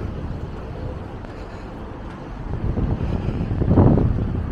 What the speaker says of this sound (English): it's getting windier and windier higher up you go